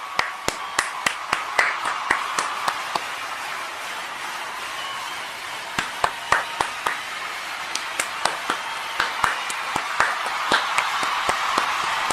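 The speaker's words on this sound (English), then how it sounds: "We need a full blast applause" A crowd applauding continuously, with scattered sharp individual claps standing out over a steady wash of clapping.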